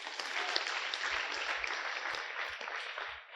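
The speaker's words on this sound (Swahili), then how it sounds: "Yesu makofi." A church congregation at a prayer service claps together, a soft, distant patter of many hands with a few dull low thumps underneath, faint and even throughout.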